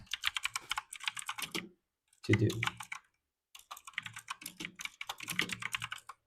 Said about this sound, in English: I'm gonna give you some ASMR keyboard stuff.